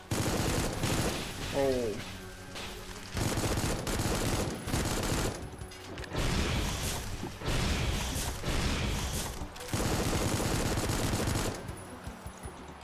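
Rapid bursts of video game gunfire from the survival horror game Supplice rattle through most of the stretch in dense, loud volleys with short gaps, a brief exclamation heard partway.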